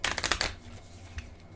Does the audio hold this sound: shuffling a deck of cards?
yes